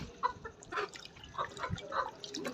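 Thirsty desi chickens cluck softly and peck at water, with scattered drips and small splashy sounds mixed among low, faint clucks against a busy background.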